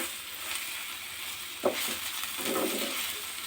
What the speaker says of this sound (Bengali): দেখুন আমি যেরকমভাবে মেশাচ্ছি, সাবধানে আস্তে আস্তে মিশিয়ে নিতে হবে।